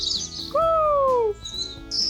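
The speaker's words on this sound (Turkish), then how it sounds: "Merhaba kuşçuk." A single bird gives a clear, loud two-note chirp in a children's show, standing out alone above the room tone.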